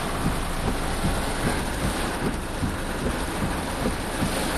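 Steady rain pours down outdoors at night in traffic, giving a dense, loud, continuous hiss with faint rumbling beneath and no pauses.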